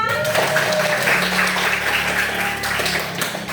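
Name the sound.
children clapping hands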